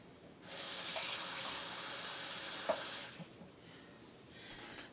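Water poured from a tap into a bowl of churro dough mix with vanilla and cinnamon, a steady close hissing stream lasting about two and a half seconds, followed by a few faint knocks.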